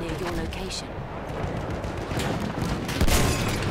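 Battlefield 1 gunfire, dense loud bursts of shots and booms filling the whole stretch, with a heavier blast near the end.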